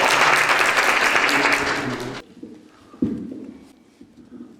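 An audience at a lecture on Vietnam diplomacy breaks into loud, full applause to welcome the former ambassador to Vietnam, then cuts off abruptly, leaving faint room noise and a few scattered bumps.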